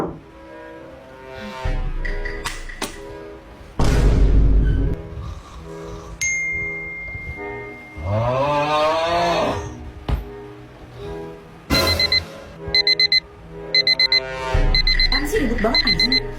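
A phone alarm rings in repeating electronic bursts, loud and close, alternating with people talking over it.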